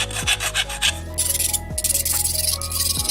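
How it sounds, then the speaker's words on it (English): A smooth mill file rasps against the cut end of EMT metal conduit, deburring it in repeated rhythmic strokes that are close and fairly loud, with faint metallic ringing tones between passes. "I like to use a smooth file. It's a mill file, and I like to deburr the ends of it."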